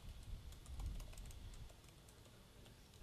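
Typing code on a computer keyboard, a quick run of soft close key clicks over a low background hum, with no talk.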